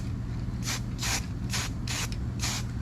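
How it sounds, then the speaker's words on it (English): Five short hissing bursts from a stainless steel aerosol spray can onto a Daytona nose cone, close by, spaced roughly half a second apart over a low background hum. "I'm going to see how this stainless spray does."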